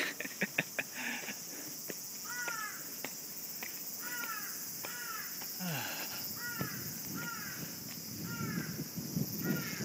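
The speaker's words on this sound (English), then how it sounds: "That is an annoying crow." A crow caws repeatedly outdoors near castle walls in Fukuoka, Japan, sharp calls spaced every second or so over a faint bed of insect chirring and distant ambient noise.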